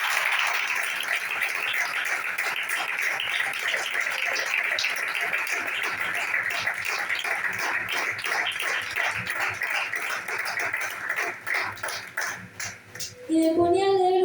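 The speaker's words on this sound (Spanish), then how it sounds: "Denle fuertes aplausos al Señor" A church congregation claps for the Lord in a dense, sustained burst of applause. It holds loud and even for about twelve seconds, then thins out and fades as a voice or music comes in at the end.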